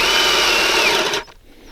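A battery-powered drill bores a hole in drip irrigation tubing, a loud steady high whir that cuts off abruptly after about a second, alone.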